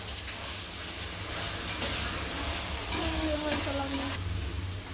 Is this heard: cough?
no